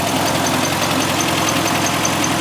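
A 1963 Volkswagen Karmann Ghia engine idling steadily, a loud, even, continuous rumble with no talk over it.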